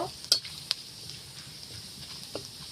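Chopped ginger frying in oil in a pan as tomato goes in for a pointed gourd (potol) curry: a low, steady sizzle with a couple of sharp clinks of a spoon stirring, quiet and close.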